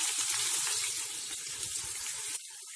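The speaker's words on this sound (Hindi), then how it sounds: "तेल हमारा गरम हो चुका है, इसमें डालिए 4 मीडियम साइज की बारीक कटी हुई प्याज।" Four medium onions, finely chopped, fry in four to five tablespoons of hot oil in a pan for chicken biryani, giving a steady, close sizzling hiss that drops off sharply near the end.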